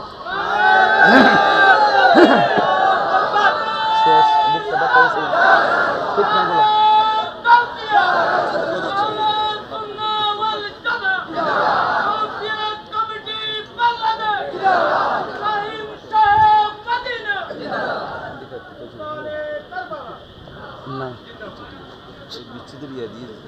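A crowd gathered at a religious sermon shouts back together in loud, rhythmic bursts, with overlapping voices and cheering rising and falling over about twenty seconds before fading toward the end.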